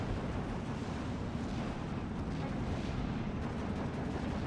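An off-map artillery strike in a WWII tank game lands as continuous heavy rumbling blasts and roar, dense and steady throughout, no talk.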